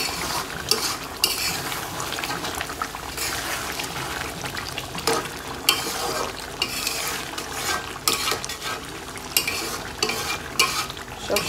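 A spoon scrapes and stirs spices in a pan of duck curry, with repeated sharp scraping strokes over a simmering sizzle, close and steady, no voices.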